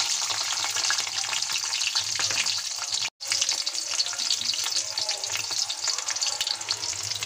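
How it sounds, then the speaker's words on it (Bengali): Garlic sizzles and spits in hot oil in a wok, a dense steady crackle with a brief cutout midway, loud and close with no talk. "গরম তেলের মধ্যে দিয়ে দিচ্ছি একটা রসুন,"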